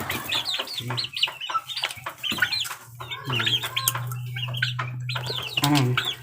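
Several chickens and chicks clucking and chirping nearby in short, overlapping calls, with a steady low hum beneath.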